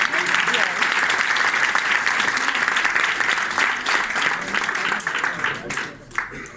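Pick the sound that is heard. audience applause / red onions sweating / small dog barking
audience applause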